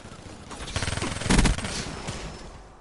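Gunfire from a high-recoil gun in the video game Black Ops 3, with rapid automatic bursts that swell into a dense volley midway and then fade.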